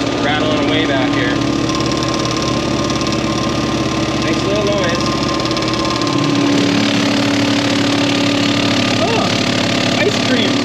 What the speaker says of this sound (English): That's what's making noise back here. This is what's rattling away back here.